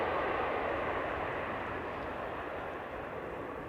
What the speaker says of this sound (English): Runway 24 is being used for departures. And this is, well, it's a 737. Oh, Ryanair by the looks of it.